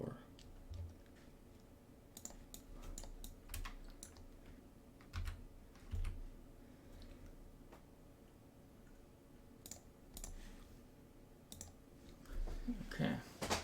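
Computer mouse clicks, faint and close, come singly and in small clusters over a low hum, with sparse, quiet sounds like keyboard taps in between.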